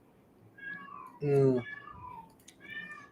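A female cat in heat meows indoors, a strained caterwauling cry mixed among softer calls in a quiet room, while a person murmurs briefly nearby.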